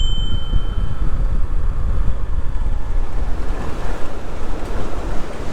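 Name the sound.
waterfall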